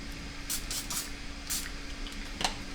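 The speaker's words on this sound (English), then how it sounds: "So I'm fighting the urge with fruit enzyme spray." Fruit enzyme spray misted from a bottle: about five short, soft hissing bursts at irregular intervals over a faint steady background hum.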